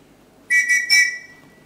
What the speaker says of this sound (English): Everyone in this household answers to a whistle.